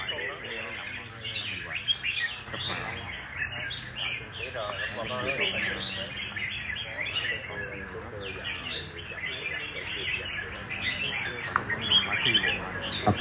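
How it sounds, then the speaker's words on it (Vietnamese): Two songbirds singing against each other at a bird singing contest, a dense stream of overlapping chirps, trills and squawks, loud and continuous, with crowd chatter in the background. "Vòng này hai chú chim."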